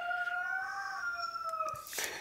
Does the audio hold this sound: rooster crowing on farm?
yes